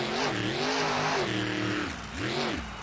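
A monster truck engine revs hard during a freestyle run at a Houston event, rising and falling in loud, close bursts, with a brief tire squeal as the truck spins around.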